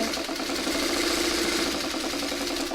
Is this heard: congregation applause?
no